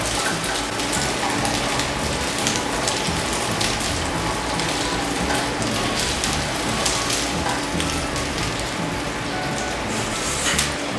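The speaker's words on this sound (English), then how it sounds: "you want to cook the crab cakes for about 3 to 4 minutes on each side" Maryland-style crab cakes, eight of them, fry in a hot pan, giving a steady, dense sizzle and crackle that runs evenly and fairly loud throughout with no talk over it.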